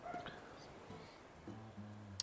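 A dog in the background of an Animal Crossing New Horizons playthrough, yipping and whimpering in a few faint, brief bursts at a distance, with no one speaking.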